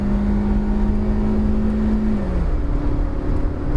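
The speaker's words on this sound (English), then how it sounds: "you got to floor it and it will change down and it will go" A 2019 Proton Saga 1.3 litre with a four-speed automatic, accelerating hard to overtake on a two-lane road: a loud, steady engine drone heard from inside, whose pitch shifts partway through as the gearbox changes.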